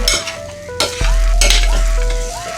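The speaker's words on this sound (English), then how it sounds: "Hot and sizzling, doing good." Steady close-up sizzling and crackling of hot butternut squash in a pan, with a couple of sharp clicks at the start.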